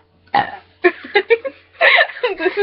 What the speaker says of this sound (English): This is like a burping.